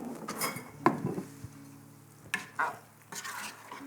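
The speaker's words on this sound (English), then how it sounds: "Stir." A serving spoon stirs ragu cooked with macadamia oil in a pot, giving a few scattered scrapes and clinks against the metal over a faint sizzle, quiet and close.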